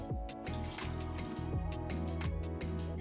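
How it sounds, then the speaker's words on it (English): Dark rum poured into a container of fruit cake mix for a Jamaican black cake, a close, continuous liquid splashing and gurgling for a few seconds with no talk. "And finally, 70 millilitres of dark rum."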